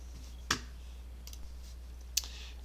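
A computer mouse gives two sharp, isolated left clicks, close and crisp over a faint steady hum, with quiet gaps between them.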